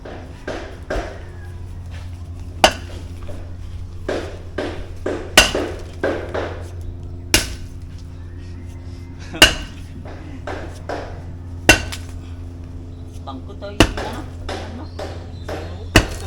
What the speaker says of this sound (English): We've got a big hammer now.